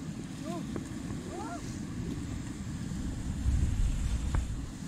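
A river raft is paddled on the Ganges at Rishikesh, with a steady rush of water and wind noise throughout as people call out nearby.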